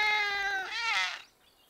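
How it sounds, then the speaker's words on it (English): A kitten in a cartoon gives a single drawn-out, high, wavering meow, close and clear, alone without talk. "Oh, it's a baby cat."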